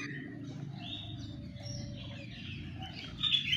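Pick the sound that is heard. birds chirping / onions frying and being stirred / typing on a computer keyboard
birds chirping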